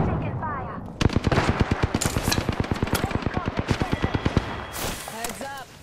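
Rapid automatic gunfire from an Apex Legends match, a long steady burst of evenly spaced shots lasting several seconds, loud and close, with brief game effects and a voice at the start and end.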